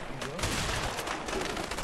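Gunfire in the video game A Way Out, a dense continuous burst of rapid shots close and loud throughout, with a voice faintly mixed in underneath.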